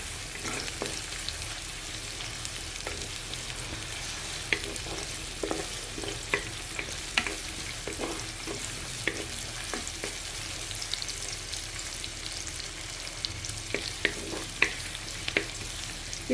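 Onions frying in a pan for an Andhra-style chicken legs fry, giving a steady, close sizzle and crackle throughout with occasional stirring clicks and scrapes, and no voices.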